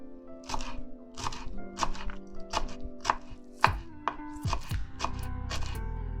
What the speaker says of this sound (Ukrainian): А зараз нарізаємо кріп та петрушку дрібненько.